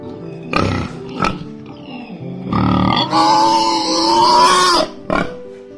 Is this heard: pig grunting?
yes